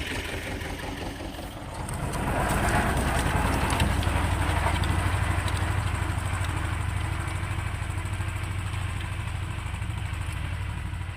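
A loud, close T-25 tractor engine chugs steadily with a rattling clatter, growing louder after a couple of seconds and then holding a continuous idle-like rumble.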